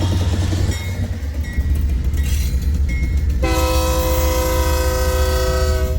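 A westbound freight train rolls past at Pacific Junction, Iowa, a loud close rumble of cars joined midway by a sustained blast of the train horn that continues to the end.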